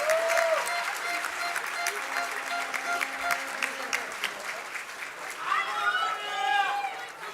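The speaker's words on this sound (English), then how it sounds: "I think they deserve another round of applause." An audience at a school graduation ceremony claps in a sustained round of applause, moderately loud and steady, with a few voices and brief tonal sounds rising over the clapping.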